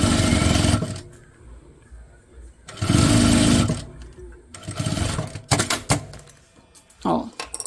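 Sewing machine stitching fabric for a slim toiletry pouch, in close, loud bursts of rapid mechanical whirring separated by pauses, with someone speaking between the runs and small handling clicks near the end.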